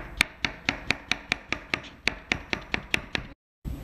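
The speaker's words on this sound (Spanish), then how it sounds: "Vamos a picarlo aquí en medialunas." A knife chops a cucumber into half-moon slices on a cutting board, about fourteen crisp, evenly spaced close knocks in a steady rhythm, then a brief silence at the end.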